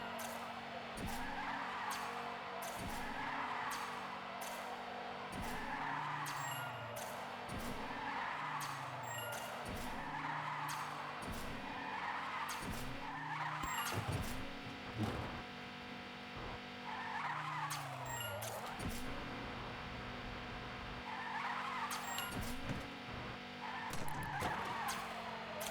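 Tires squeal again and again as a car slides and skids through turns in a driving video game, a long run of repeated screeches over a steady engine hum, heard alone with no talking.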